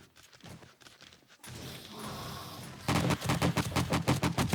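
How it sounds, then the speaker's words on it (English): Automatic AK rifle gunfire rattles in the zombie survival game 7 Days to Die during a horde night. Bursts of rapid shots come close and loud, growing denser and louder toward the end. "run around with 100 screaming zombies with an AK?"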